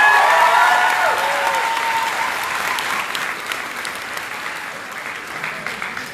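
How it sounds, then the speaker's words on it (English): An audience at a charity dinner applauds, loud clapping at first that slowly thins and fades, with a few cheers early on. "deserves a big, big round of applause"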